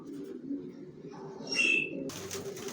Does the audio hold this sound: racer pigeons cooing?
yes